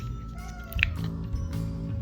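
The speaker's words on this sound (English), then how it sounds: "And that's my other cat." A house cat gives one short, fairly faint meow in a quiet indoor room, standing out briefly over a low background hum.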